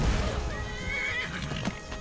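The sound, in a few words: horse neighing in a video game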